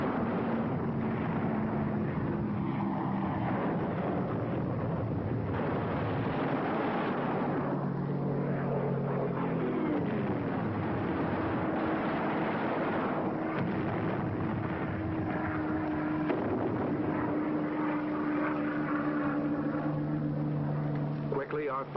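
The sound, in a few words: fighter aircraft engines flying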